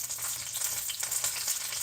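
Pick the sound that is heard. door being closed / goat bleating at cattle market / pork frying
pork frying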